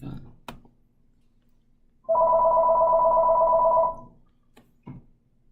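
A telephone rings in a classroom during an SAT review session, a steady electronic trill lasting nearly two seconds at close range, bracketed by faint thumps and quiet room noise.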